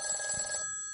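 A telephone rings with bright, bell-like tones that sound steadily for about half a second and then fade, loud and close with no talking.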